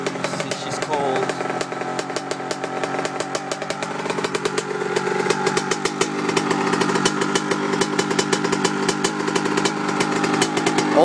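A 2004 Honda CR85R two-stroke dirt bike engine runs and revs close up. Its exhaust pipe is missing an O-ring gasket, giving a buzzing, rattly tone that rises in intensity.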